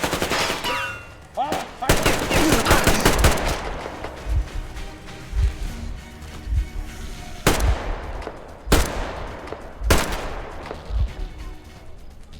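Gunfire from a weapon in Metro Exodus cracks out in sharp, loud single shots and short bursts spaced a second or two apart, with a dense rattle early on and a faint voice underneath.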